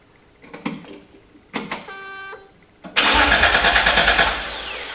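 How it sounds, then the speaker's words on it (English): A 1974 Datsun 260Z engine cranks over, with a few short clicks and whirs, then a longer grinding burst of the starter that settles into a loud, steady churning crank. "We'll actually go in here and we can turn this car over."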